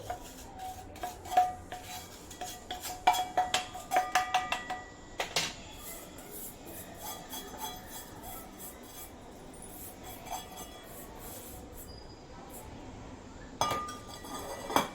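Roasted milk powder stirred into a warm mixture in a pan while making chocolate barfi, with repeated light clinks and scrapes of a spoon against the pan, busiest early on, then softer rubbing and occasional taps.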